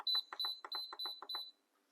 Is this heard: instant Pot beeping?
yes